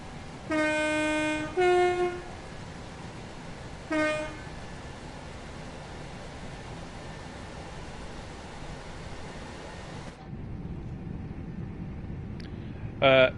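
A long Class 37 railtour train rumbling along Birmingham's Cross-City Line in Train Sim World 3, with several loud horn blasts over a steady low running rumble and a final short horn at the end.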